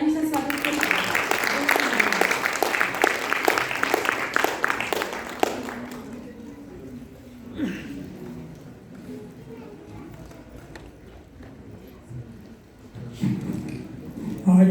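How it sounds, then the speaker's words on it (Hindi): An audience at a cultural function by blind artists breaks into loud, dense applause to welcome a guest for several seconds, then it fades into quieter hall noise and someone speaking. "जोरदार तालियों से स्वागत करें।"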